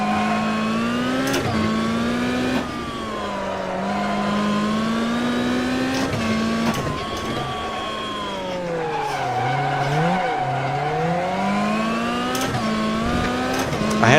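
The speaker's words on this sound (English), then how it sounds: "I had a bit of a panic throttle blip there, which is not a great thing to do, but I felt I was losing the slide." A rally car in the AMS1 racing game slides under throttle, its engine note rising and falling with a quick panicked blip while the tyres scrub loudly and continuously, close and alone without talk.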